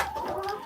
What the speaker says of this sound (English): It's mostly the white leghorns.